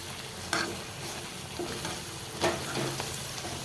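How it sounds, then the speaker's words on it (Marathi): Chili powder being mixed into shev bhaji in a pan, giving a soft scraping stir over a continuous low sizzle, with a couple of sharper spoon knocks against the pan. "याला व्यवस्थित मिक्स करून घेते"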